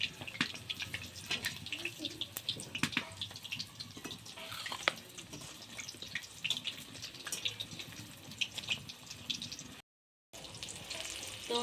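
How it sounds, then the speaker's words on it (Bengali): Crispy chicken balls sizzle and crackle in hot oil in a pan as they are turned, a steady close frying hiss with small pops and occasional clinks throughout. "এইভাবে ঘুরিয়ে ঘুরিয়ে আমি ভালো করে লাল করে ভেজে নিচ্ছি"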